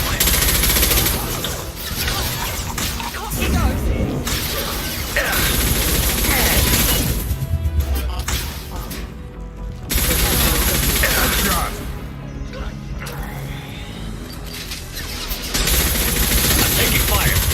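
Heavy gunfire in the Mass Effect 2 Legendary Edition video game: sustained, loud bursts of rapid shots with short lulls between volleys, forming a chaotic, near battle din.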